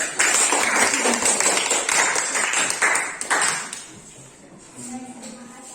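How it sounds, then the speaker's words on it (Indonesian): A classroom group claps in a brief burst of scattered hand claps that fades after about three seconds, followed by quieter background sounds. "tepuk tangan dulu"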